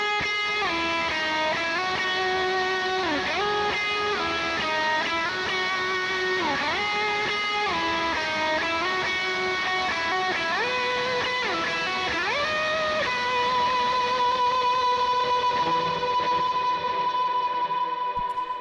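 An electric guitar runs through an effects pedal with medium reverb, sustained chords shifting and bending over a long stretch, with a lush, washed-out tail that rings on at the end, no talking.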